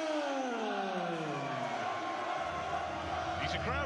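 A boxing arena crowd cheering and roaring for a fighter's ring entrance, with a vocal Millwall contingent. The dense, continuous crowd noise fills the space, and an announcer's voice rings out over it at the start.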